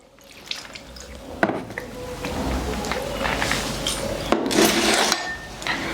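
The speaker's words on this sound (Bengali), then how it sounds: "আগে হাত ধুয়ে নেই একটু" Hands being rinsed under running water before a meal, a steady splashing stream with brief drips and knocks, close by and fairly quiet with a faint voice in the background.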